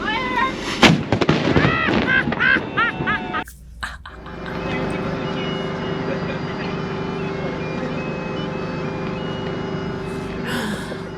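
Booming cannon blasts from the tall ship Pride of Baltimore ring out near the start, loud and sharp, followed by a steady engine-like rumble and murmuring voices across open water at a race start parade.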